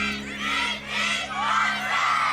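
A crowd cheers and shouts in loud swelling waves, many voices rising and falling together over a steady low hum.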